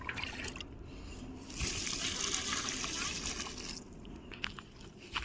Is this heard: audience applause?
no